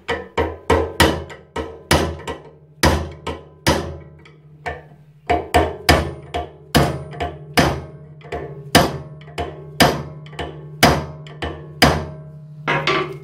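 Screwdriver struck repeatedly with a hammer to drive out a motorcycle steering head bearing race: about twenty loud, sharp metallic blows in uneven bursts, close up, with no talking.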